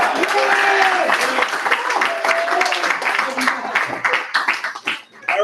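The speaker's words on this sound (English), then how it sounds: "so let's give Max and Mike a round of applause" An audience at a cybersecurity event applauds loudly, the dense clapping carrying on under overlapping voices before thinning and fading at the end.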